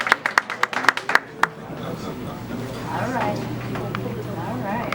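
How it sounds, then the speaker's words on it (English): Audience clapping for a woman coming up to perform at a live inspirational event: a handful of loud, sharp claps opens the moment, then fades into a murmuring crowd with talk underneath. "Clap it up for her as she comes up"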